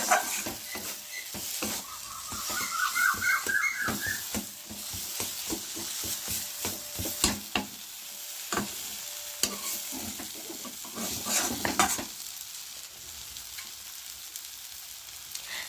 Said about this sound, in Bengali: এই যে বাটাবুটি যেরকম একটু নেড়ে নেড়ে নিতে হয় কড়ায়